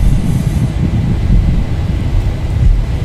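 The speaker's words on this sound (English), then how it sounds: "Takeoff thrust set." Jet airliner engines in the Zibo mod flight simulator spool at takeoff thrust, a loud, continuous low roar with steady rumble and faint hiss, unbroken from start to finish.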